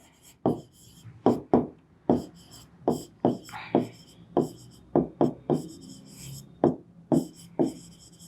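Chalk or marker strokes tap and scrape on a board during a maths lecture on group theory, about a dozen sharp, close writing strokes in an uneven rhythm, with a teacher speaking faintly between them.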